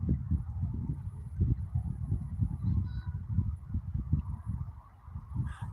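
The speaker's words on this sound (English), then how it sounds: "That's the goose." A goose honks repeatedly at close range by a riverside park, a run of rhythmic calls with little else around them.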